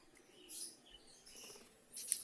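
A budgerigar colony with nesting birds chirps faintly, giving a few soft, distant high tweets in short bursts, with the brightest burst near the end.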